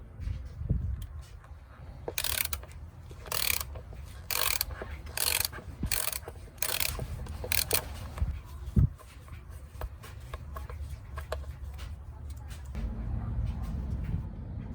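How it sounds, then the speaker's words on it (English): A ratchet fitted with a 9/16 socket loosens the PCV valve on a 2003 Mitsubishi Lancer ES, giving a series of sharp, close clicking ratchet strokes followed by quieter fumbling and handling. "to loosen the valve, you will need to turn it counterclockwise."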